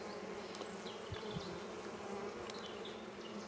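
Honeybees hum and drone around an opened hive frame of brood in a test colony wintered in a cellar, a continuous close buzz with individual bees whining past.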